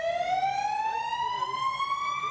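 An emergency vehicle siren sounds at an outdoor children's day rescue services event, a loud steady tone sliding slowly upward, heard alone.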